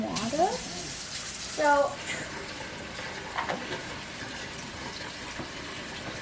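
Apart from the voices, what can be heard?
warm water being poured into bread dough mix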